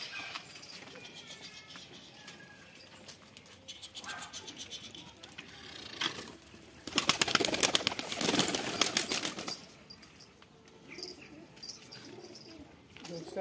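Pigeons, newly acquired birds being brought outside, coo softly with a burst of wing flapping and rustling in the middle, fairly close, over a faint background with occasional chirps.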